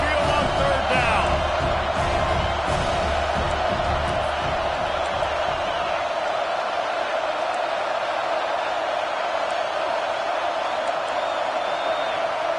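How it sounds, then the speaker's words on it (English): Roaring stadium crowd noise from a football video game, Arkansas at Alabama, as the home crowd at Saban Field gets loud on third down; a dense, sustained roar with whoops and bangs, steady throughout and heavier at the start. "The Tide crowd, rolling noise down onto Saban Field on 3rd down."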